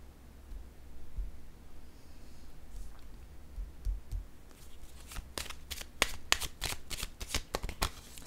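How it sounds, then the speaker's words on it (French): Tarot cards shuffled and laid down on a table, a quiet soft rustle at first, then a rapid series of sharp card snaps and flicks in close succession, with no talking. "Je vais déposer une carte sur la clé."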